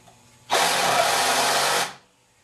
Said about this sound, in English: I'm gonna cut these antlers off.